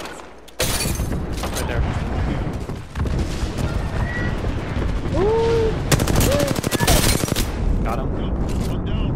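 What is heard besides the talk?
gunfire in a video game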